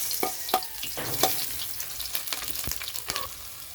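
Sautéing for chicken curry in a pan over a wood fire, sizzling oil with irregular sharp scrapes and clatters of stirring, close and fairly quiet.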